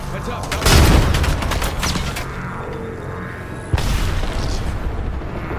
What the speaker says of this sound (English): Grenade! Heads up.